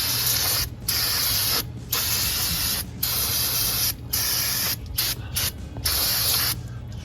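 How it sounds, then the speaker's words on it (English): Brake cleaner sprayed onto the rusty backing plate of a 1998-2002 Subaru Forester drum brake, a series of loud, close hissing aerosol bursts with brief gaps between them, steady and alone. "I'm just gonna take some brake cleaner right here. Apply ourselves a generous amount rather."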